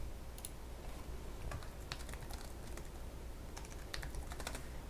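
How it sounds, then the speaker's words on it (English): Quiet, steady typing on a computer keyboard while an answer is entered, with irregular bursts of soft key clicks over a faint background hiss. "You could also type your answer."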